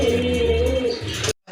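A male tiger grizzle pigeon coos nearby in a soft, low, throaty run that lasts over a second, then stops abruptly.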